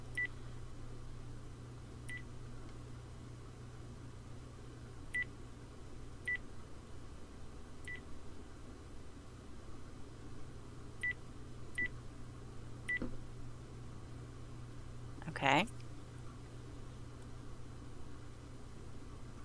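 A short run of separate dialing beeps on a telephone, spaced irregularly over a steady low hum, followed by a brief louder burst of tone near the end.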